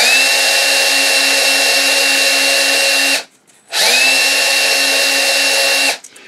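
A bench motor fitted with a grinding wheel spins at a steady high-pitched whine with a strong tonal hum, cutting out briefly after about three seconds, then spinning back up and stopping again near the end.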